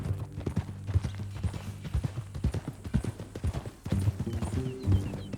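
Rhythmic clip-clop of horse hooves trotting close by in Red Dead Redemption 2, steady and fairly loud throughout, with a low background hum.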